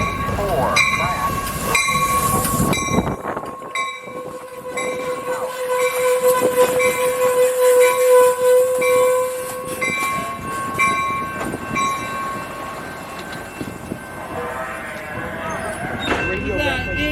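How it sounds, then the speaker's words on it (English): A Union Pacific freight train passes loudly and close on a Northern California line, its horn sounding in long sustained blasts over the heavy rumble of the wagons, with a voice heard over it. "incoming Union Pacific freight train"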